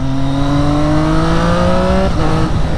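A Triumph Street Triple motorcycle fitted with an Akrapovic carbon exhaust revs loud and close, a steady rising engine tone held for about two seconds before it drops away.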